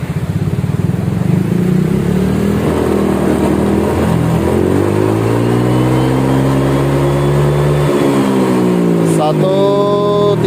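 A Honda Vario automatic scooter engine revs hard through its aftermarket exhaust, a loud continuous drone climbing and falling in pitch across several throttle sweeps, with people talking over it near the end.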